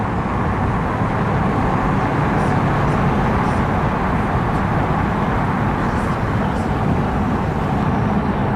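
The 1.6-litre turbocharged engine of a Peugeot 207 CC THP Sport under acceleration, a steady, loud engine and road drone heard from inside the car, with no clear rise in pitch.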